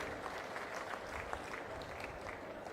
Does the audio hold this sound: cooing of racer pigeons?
no